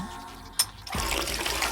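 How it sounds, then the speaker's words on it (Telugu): A shower is switched on with a sharp click, and a moment later water bursts out into a steady, close rushing spray. "ఇదిగో వస్తుంది కదా షవరు"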